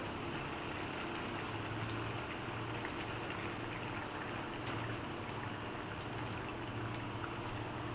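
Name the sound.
water added to hot pan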